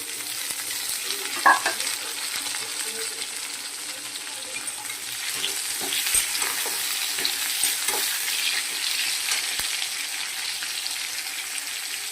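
Potatoes fry in a hot pan with a steady crackling sizzle, while intermittent scraping and clinking of stirring rise above it throughout.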